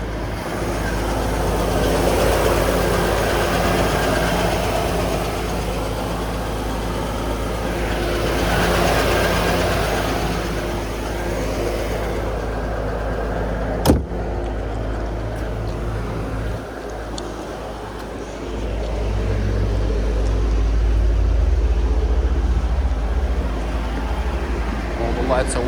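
A 2001 Chevrolet Corvette convertible with a manual transmission idles smoothly and steadily, a continuous low engine hum that stays even throughout with no misfires, while a voice talks briefly over it.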